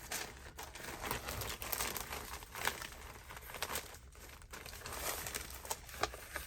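Sheets of paper are handled and crinkled at a craft table during card making, a steady, close rustling and crackling with occasional sharper crackles, no voices.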